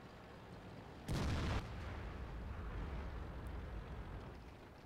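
A single loud, booming blast from an ISU-152 tank destroyer's gun in World of Tanks, fired at an IS-3, about half a second long and standing well above a steady background rumble.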